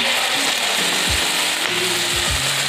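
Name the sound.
fish eggs poured into hot oil with cumin, sizzling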